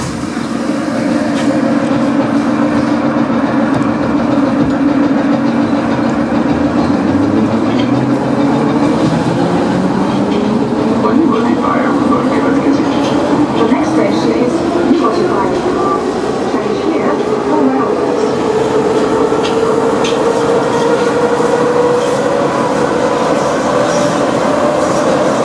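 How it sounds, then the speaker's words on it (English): An old, unmodernised Russian-built Budapest metro train runs with a loud, steady DC traction drone whose motor whine rises in pitch as it accelerates, over continuous rumbling wheel and track noise for the whole stretch. "Let's get on the original unmodernised old metro trains."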